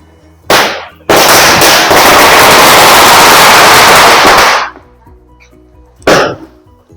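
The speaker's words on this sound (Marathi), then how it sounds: "फटाक्यांची माळ लावतोय" A loud string of firecrackers crackles in a dense, continuous burst for several seconds, framed by single sharp bangs before and after, set off during Ganesh festival celebrations in Malvan, Konkan.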